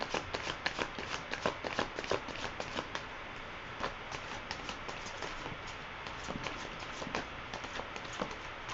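Tarot cards are shuffled steadily, with soft repeated riffling and flicking at an even pace, close and fairly quiet with no talking.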